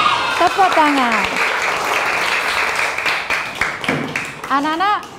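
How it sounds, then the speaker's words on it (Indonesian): Schoolchildren clap their hands together in a classroom, a dense burst of applause running under a teacher's voice and children's voices throughout. "Tepuk tangan."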